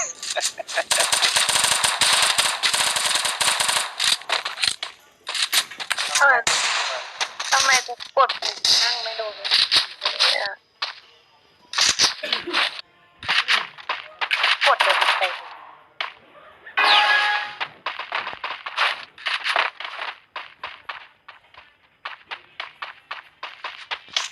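Rapid bursts of pistol and gunfire from a multiplayer shooter video game, with dense, loud shots packed close together, brief pauses, and voices that seem to talk over the action.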